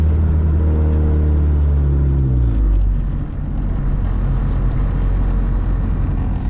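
A 600+ horsepower turbocharged Mazdaspeed3 rolls out onto the road with a loud, close, deep engine rumble whose revs sink and settle into a steady throbbing drone.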